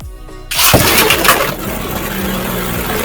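A Beyblade Drift top spins in a Toymeca Decagon stadium, an anime-style arena: after a half-second of quiet, a loud broadband whirring and scraping rush starts abruptly and carries on steadily, without speech.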